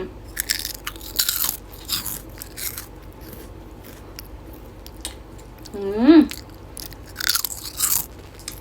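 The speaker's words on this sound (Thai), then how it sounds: "เดี๋ยวขอ กัดชิมก่อนนะคะ" Someone bites into mochi ice cream filled with pearls and brown sugar sauce, making a few soft, close crunching and squishing sounds, with a brief murmured voice in between.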